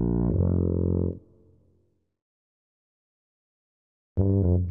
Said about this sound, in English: Cool! You found the tuba.